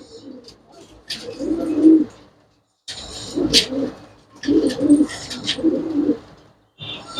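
Domestic pigeons cooing close by in repeated soft throaty bursts separated by brief pauses, with faint higher chirps mixed in.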